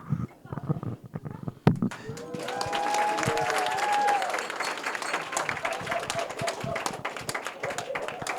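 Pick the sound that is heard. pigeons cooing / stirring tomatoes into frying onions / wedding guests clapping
wedding guests clapping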